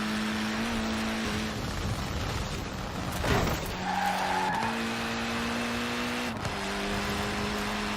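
Abarth race car in the video game Forza Horizon 4, engine droning steadily with gear-shift steps and rising revs, a burst of tire skid and squeal midway, loud and continuous with no talk.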